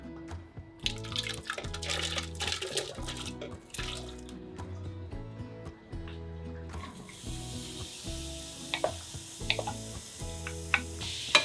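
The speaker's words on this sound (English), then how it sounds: "I'm gonna saute the onions in here before we put them in the pot" Onions sauté in suet in a pan for split pea soup, with a steady low hiss of frying that grows fuller partway through, sitting under background music.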